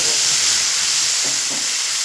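A short burst of loud, dense sizzling as wet spice paste hits hot oil, a steady bright hiss with faint stirring beneath.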